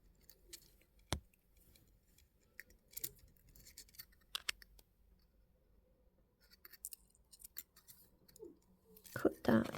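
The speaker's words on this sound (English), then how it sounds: "Cut that wire off at both ends and press down your little cut ends." Jewellery wire for a beaded ring gets snipped off at the ends, giving a few sharp isolated clicks of the cutters with quiet handling and rustling between them, and a voice talks under part of it.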